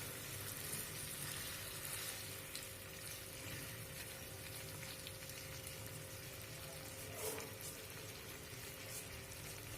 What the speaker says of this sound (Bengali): ম্যারিনেট করে রাখা চিকেনগুলো দিয়ে ভালো করে